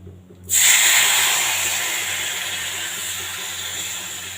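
Water poured into hot ghee in a pan, seasoned with turmeric and cumin powder, bursts into a sudden loud hiss after brief quiet, then settles into a long steady sizzle that slowly fades.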